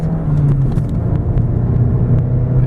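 A 2015 Volkswagen GTI pulls hard through the gears, its engine a steady low rumble and drone heard from inside the cabin, with no talk over it.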